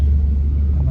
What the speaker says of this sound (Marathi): अजून गाड्या येतात मागून